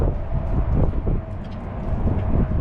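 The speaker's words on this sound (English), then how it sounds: "Oh, it's so windy." Strong wind buffets the microphone at an outdoor Tesla charging station where a Model S Plaid is charging, a steady low roaring rush with gusty swells throughout and no one talking.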